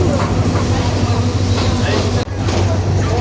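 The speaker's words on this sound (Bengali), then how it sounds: "এই যে লালমনিরহাট রেলওয়ে স্টেশন" A train rumbles steadily at Lalmonirhat railway station, low mechanical drone throughout with a brief dip, mixed with background chatter.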